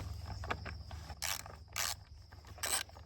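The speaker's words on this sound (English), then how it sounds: "we need a 10mm ratchet to take this brace off that holds the battery in" A 10mm ratchet turning the battery brace bolt on a Honda CRF250F motorcycle, quick clicking pawl bursts in three short runs, close up, with faint mechanical clatter between.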